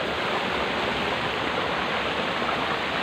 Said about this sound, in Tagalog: May baha lang dito.